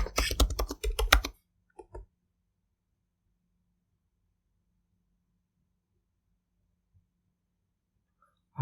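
A computer keyboard is typed on, with a burst of rapid, close clicking keystrokes at the start, then a couple of isolated taps before near silence.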